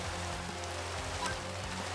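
Rain weather in the Cobblemon Minecraft modpack falls as a steady, even hiss that stays close and constant throughout, with no talking.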